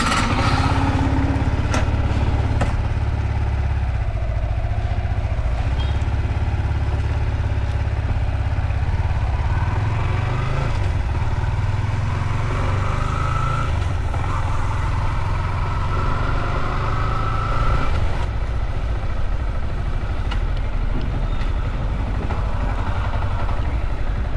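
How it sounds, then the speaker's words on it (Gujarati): A tractor engine at a construction work site runs steadily close by, a loud low chugging drone with clattering mechanical rattle throughout. "હવે આપણે રાઈડ ઉપર જઈએ, ટ્રેક્ટર પાછા ચાલુ કરાવી દઈએ"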